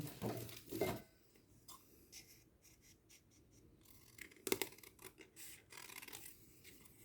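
Scissors cut paper for a Christmas angel craft, producing faint, close snips and soft scraping rustles in a quiet room with no talking.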